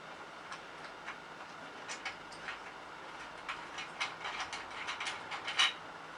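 A thread tap cuts threads while working on a 1987 CR250 and is backed off half a turn, giving faint, irregular metallic ratcheting clicks and scrapes that grow louder toward the end, without talking.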